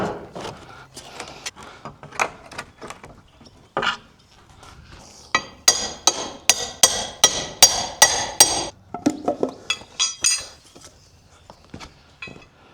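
Someone hammers and pries trim off a door on an old barn: sharp, close wooden knocks, first scattered, then a fast regular burst of ringing blows, followed by softer clunks and scraping.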